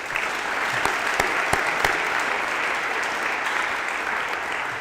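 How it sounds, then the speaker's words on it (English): Sustained applause from a large audience giving parents a standing ovation at a high school senior awards ceremony, steady and dense throughout with a few sharp individual claps standing out. "Let's give them a round of applause."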